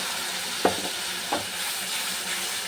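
Spice paste frying in a pan with fried onions for egg biryani makes a soft, quiet sizzle, broken by two short stirring scrapes, up close with no voices.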